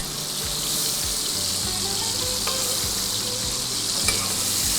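Fish sizzling loudly in soybean oil in a pan, a dense continuous hiss of frying with occasional pops and a few clinks of a utensil, close up and with no voices.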